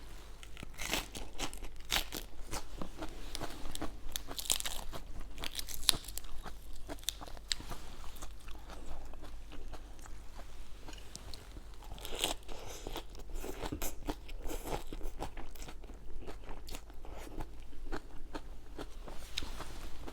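Food eaten by hand, crunched and chewed close up, with steady bites and crackling crunches running through the whole stretch and no talking.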